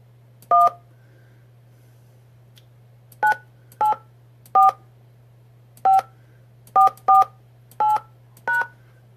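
Telephone keypad DTMF tones entering a host PIN for a call-in radio show line, eight short clean beeps in an uneven sequence over a steady low line hum.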